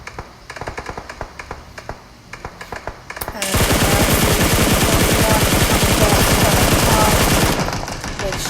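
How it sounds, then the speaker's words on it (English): Sustained automatic gunfire in the battle royale game PUBG during an esports scrim match: after about three seconds of scattered taps and shots, a loud, dense burst of rapid machine gun fire rattles continuously for several seconds, with faint commentary voice underneath. "Shadow firing"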